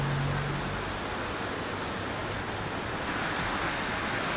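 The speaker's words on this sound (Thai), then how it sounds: "นี่คือน้ำตกห้วยจันนะครับเดือนกันยายนนะครับ ในวันที่ 14 กันยายน ครับน้ำกำลังมากครับ" Huay Chan waterfall in Khun Han district, Sisaket, runs high in September, giving a dense, steady hiss and roar of rushing water that stays constant and loud with no voices.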